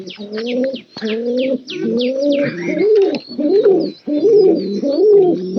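Pigeons coo up close in repeated low, rolling phrases, one after another with short pauses, mixed with a few brief chirps.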